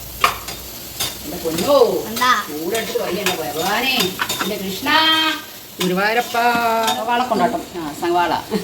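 Onion kondattam and dried chillies fry in hot oil in a Kerala kitchen, giving a steady sizzle and crackle throughout, partly covered by a prominent voice or melodic vocal line.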